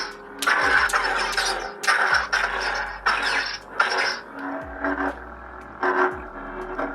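Electronic buzzing hum with repeated crackling bursts and sharp zaps from a Saberforge Mace Windu lightsaber's blaster, block and clash effects, several distinct clash sounds separated by low humming tones.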